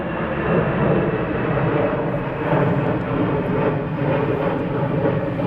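An airplane taxis at East Midlands Airport at night, its engines giving a steady, fairly loud whining roar with a broad rushing noise that holds even throughout.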